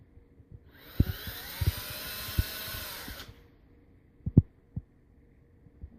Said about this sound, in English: if you put this mechanism in a drill as it was designed to do